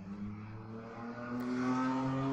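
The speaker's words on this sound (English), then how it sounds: "sorry about the traffic" A car on a very busy residential street passes close by, its engine hum building steadily louder over a couple of seconds as it approaches, with no talk over it.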